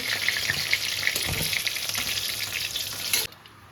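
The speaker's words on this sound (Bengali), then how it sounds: "এবারে আলুগুলো ভেজে নেবো ওই একইভাবে ভেজে নেবো" Potato pieces frying in hot oil in a Bengali home kitchen give a steady, close hiss with small crackles. The sizzle runs continuously for about three seconds and then cuts off abruptly to near silence.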